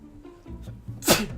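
A single sharp sneeze bursts out near the end, loud and close, following a few faint low sounds during a let's-play session of the game Ascendant.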